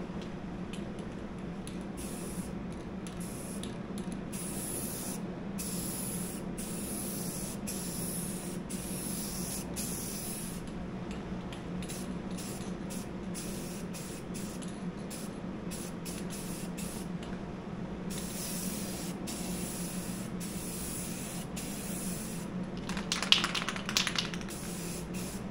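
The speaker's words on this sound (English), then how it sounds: "Always do some test fires away from the panel to make sure it's spraying good." Steady hissing of an aerosol spray can runs almost continuously, with faint clicks and taps nearby and a brief louder burst near the end.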